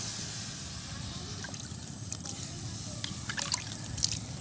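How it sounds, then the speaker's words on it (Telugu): Water being poured outdoors while cooking eggs in a mud ball: faint trickling and dripping with small sloshes, low in level and irregular, growing a little busier toward the end. "నీళ్ళైతే పోసుకొని"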